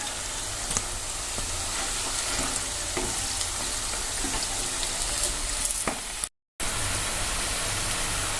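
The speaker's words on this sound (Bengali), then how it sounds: "আপনারা কোপ্তাগুলো গোল্ডেন ব্রাউন করে ভেজে নেবেন, দু পিঠ ভালো করে ভেজে নেবেন" Vegetarian banana flower koftas deep-fry in hot oil with a constant, close hiss and crackle of sizzling, broken only by a brief cut near the end, with no voices.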